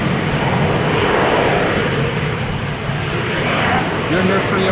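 An Embraer 190 jet airliner taxis at wet, windy Amsterdam Schiphol, its engines giving a loud, steady broadband roar that stays close and constant throughout, with rain and wind mixed in.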